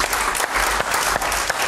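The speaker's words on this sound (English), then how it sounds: "Give the Lord a hand clap" Steady, dense hand clapping from a church congregation, loud and continuous with no voices over it.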